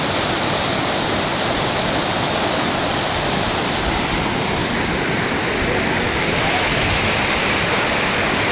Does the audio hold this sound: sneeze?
no